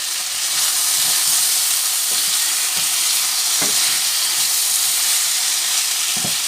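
Ground coriander and other spices frying in a pan for a Thai-style red chicken curry, a constant loud sizzle and hiss with intermittent scraping knocks of a spoon stirring.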